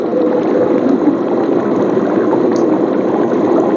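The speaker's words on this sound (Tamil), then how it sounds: "கிரேவி வந்து பாத்தீங்கன்னா இப்போ நல்லா கொதிச்சிருச்சு." Kerala fish curry gravy boils hard in a pan, giving a loud, continuous close bubbling and sizzling wash that holds steady throughout.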